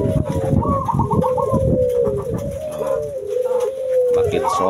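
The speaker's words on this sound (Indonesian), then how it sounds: "makin bunyi ya burung-burungnya." Caged pigeons or doves coo and call continuously at close range in a small coop as evening falls, layered rolling coos with occasional higher calls, loud and steady throughout.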